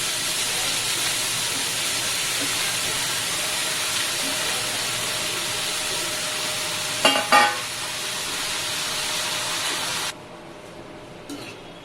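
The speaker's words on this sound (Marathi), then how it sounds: "कांदा परतून झालाय आता आपण त्याच्यामध्ये ही चिरलेली भाजी टाकून घेऊया" Chopped amaranth greens go into fried onions in a hot pan. A steady, close sizzling hiss carries on, with a short clattering burst partway through, then drops sharply quieter near the end.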